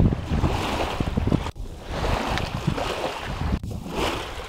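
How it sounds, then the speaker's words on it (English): Lake waves lap against the shore in a continuous, close wash with gusty wind noise. The sound drops briefly twice and then rises again. "Here, let me give you some soothing and relaxing sounds. Listen to the lake coming up."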